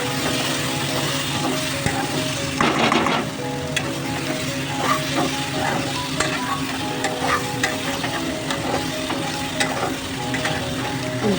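Spice masala for potol curry sizzles steadily as it is fried and stirred in a wok, with a dense, continuous crackle and intermittent scraping strokes throughout.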